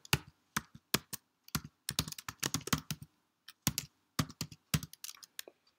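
Rapid, uneven bursts of clicking keystrokes on a computer keyboard, close and clear, coming in short flurries separated by brief pauses, with no voices.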